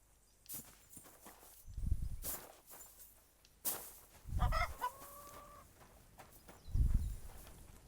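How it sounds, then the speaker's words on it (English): A chicken clucks in a medieval village in Kingdom Come Deliverance 2, a few short clucks and a brief squawk scattered among heavy footsteps and dull thumps nearby. "Don't punch the chicken."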